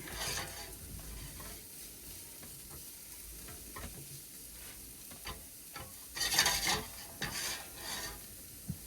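Onions sautéing in a pan for a frittata give a steady low sizzle with light stirring and scraping, plus a louder burst of utensil clatter near the end; nobody speaks.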